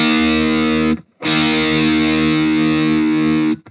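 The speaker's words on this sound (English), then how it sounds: "The intro starts with power chords." Heavily distorted electric guitar power chords open a Splatoon 3 track: two long, loud sustained chords separated by a brief gap, with nothing else playing.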